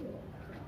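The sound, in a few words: pigeon from Germany cooing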